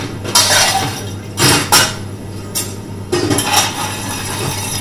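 A cocktail of gin, dry vermouth and Campari is stirred with ice, giving bursts of clinking and rattling glass that come and go near the microphone.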